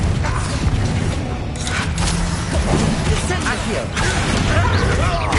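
The Confringo spell is cast in Hogwarts Legacy amid combat, with loud magical blasts, booms and crashes rising over a busy mechanical game soundscape. A voice speaks over the effects.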